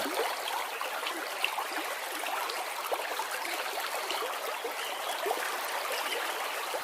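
Continuous trickling and gurgling of water at a pond or well edge as a clay pitcher is dipped to draw water, a soft, steady, fairly faint watery wash with no talk.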